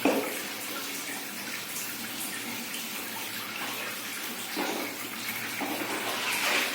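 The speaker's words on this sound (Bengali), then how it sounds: "তো কুটি দেখো ঝর্ণাতে চান করবে।" Shower water pours steadily over a pet being bathed, a continuous close hiss of spray with occasional splashing changes and no talk.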